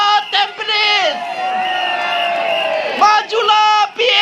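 A crowd at a People's Action Party rally in Tampines cheers and shouts, sustained and loud, with voices rising and falling together.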